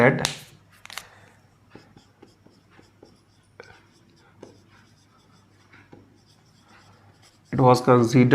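A pen writes notes during a Class 9 lesson on atoms and molecules, making scratchy strokes and taps on paper in a quiet room, with a teacher's speech at the start and end.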